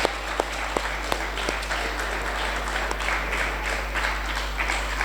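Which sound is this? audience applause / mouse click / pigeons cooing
audience applause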